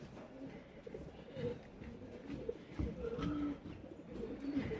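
Doves cooing outdoors during a riverside walk, soft repeated low coos in a steady, moderately distant rhythm over faint background noise, with other bird calls mixed in.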